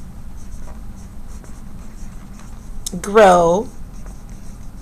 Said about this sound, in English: So I'm going to write down peaches